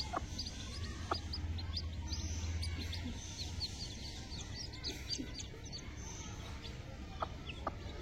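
A mother hen clucks faintly and intermittently while feeding her chicks, over a steady background hum, with scattered small chirps from the chicks throughout.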